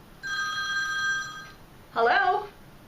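A telephone rings for a school's automated Sunday night call, one steady electronic ring lasting over a second, then a short pause and a second warbling burst, close and clear.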